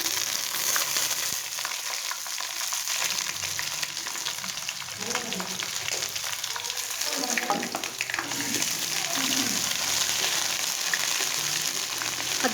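Chopped onions and ginger paste frying in oil give a steady, loud hiss and sizzle throughout, with occasional stirring scrapes.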